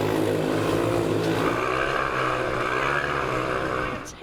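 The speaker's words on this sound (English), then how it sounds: "Oh, they're revving up." Motorbikes revving inside a circus globe cage, a loud continuous engine drone with rising and falling pitch, close and steady throughout.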